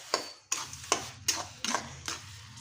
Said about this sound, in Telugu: పోసేసి ఇప్పుడైతే బాగానైతే కలిపేసేయండి.